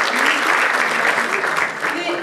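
Audience applause at a Turkish classical music concert, a dense, loud wash of clapping from a full hall that continues steadily throughout.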